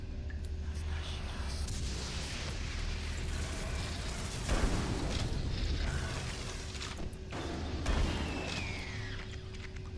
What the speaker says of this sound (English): I'm not gonna get backed into another explosion.